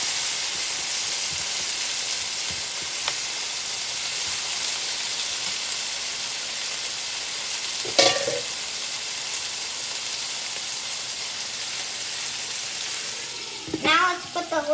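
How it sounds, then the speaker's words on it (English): Mutton biryani ingredients fry and get mixed in a pan, a steady close sizzle with a sharp clatter midway and scraping, clanking stirs near the end; no talking. "Now let's put the lid on it and leave it to fry for a little bit."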